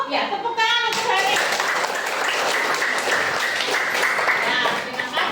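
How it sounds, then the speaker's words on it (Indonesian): Classroom applause for a student, a dense burst of many hands clapping together that carries steadily for several seconds at close range. "tepuk tangan untuk hari"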